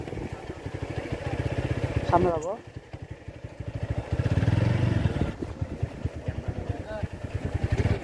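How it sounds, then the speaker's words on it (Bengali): Motorcycles pass on a hill road near Lama hill station in Bangladesh, engines puttering and revving close by with clattering rhythm, rising and fading as they go, while people talk over the noise. "এখানে অনেক বাইকার আসছে।"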